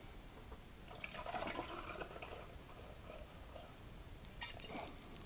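During home distilling, liquid is poured through a funnel with a continuous splashing, gurgling rush at moderate volume that swells and then tapers off.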